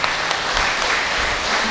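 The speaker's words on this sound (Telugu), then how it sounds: "ఒకసారి గట్టిగా చప్పట్లు కొడదాం." An audience claps steadily for nearly two seconds, a dense, even round of applause at a birthday celebration held at a pyramid meditation centre, close and without talking over it.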